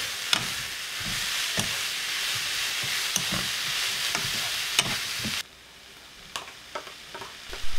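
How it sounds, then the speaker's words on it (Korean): Salted golden zucchini stir-fried with a spoonful of soy sauce over high heat, a close, hissing sizzle broken by repeated scraping stir strokes, quieting briefly near the end. "1분 정도 생불로 볶고 간장 한 스푼 넣어 한 번 더 볶아주세요."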